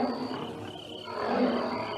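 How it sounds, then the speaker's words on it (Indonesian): A tiger roars in an audio drama sound effect, a deep rumbling growl that swells and grows louder toward the middle, with no speech over it. "Aku mendengar ada suara harimau."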